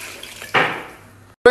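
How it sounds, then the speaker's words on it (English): Water splashes into a pot of mutton seasoned with salt and fresh ginger in a short, loud pour that fades away, followed by a sharp metallic clank of the pot. "I'm gonna add some water and boil it until tender"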